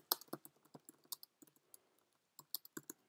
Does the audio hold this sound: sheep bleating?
no